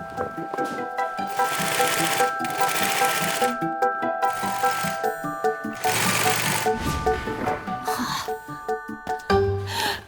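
A sewing machine stitching bouncy castle pieces together, running in a few bursts of rapid mechanical whirring with pauses and handling noises between, and some voice and music mixed in.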